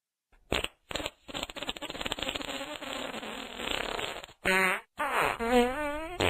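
A comedic fart sound effect with a few separate bursts, some buzzy and sputtering, fairly loud and close, with no talk over it.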